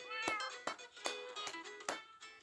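A cat meows several times in quick succession, short tonal cries spaced about every half second, close and fairly quiet with no talk.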